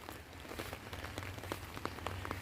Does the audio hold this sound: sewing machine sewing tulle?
no